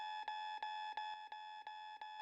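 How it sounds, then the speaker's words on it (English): Alarm going off in the Norn9: Var Commons video game, a steady electronic ringing tone broken by short regular dips about three times a second, clear and alone. "So Rana's like, sorry, that's my alarm."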